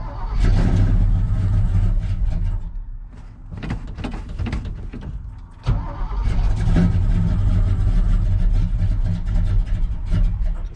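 A GMC Yukon with a big block engine cranks over on a cold start, stumbles, then catches and revs loudly and roughly for several seconds, close by, with a brief lull partway through before the revving surges again.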